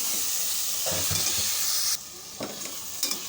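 Boiled chana is stirred into a rice and spice mixture in a hot pan. Rhythmic close scraping strokes run over a steady sizzle, which drops quieter partway through as stirring continues.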